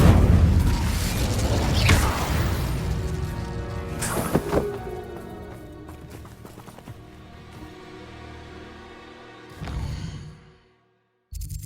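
A fire spell is cast in Hogwarts Legacy, giving a sudden whooshing burst with a sharp crackling flare near four seconds over a low mechanical rumble, then a second burst before it cuts out.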